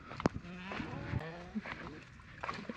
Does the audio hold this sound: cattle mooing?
yes